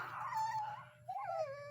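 Weaned puppies whimpering, high thin whines rising and falling in two drawn-out cries over a low steady hum, close but faint.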